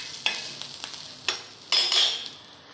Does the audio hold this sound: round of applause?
no